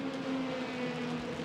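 A race car at a Malaysia Championship Series round comes around the circuit, its engine a steady sustained drone with a low harmonic hum, loud and continuous without a clear rise or fade.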